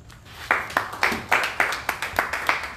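A church congregation at a Togolese gospel gathering claps in a steady, rhythmic beat, sharp regular claps about four per second, moderately loud and close, with no talk over them.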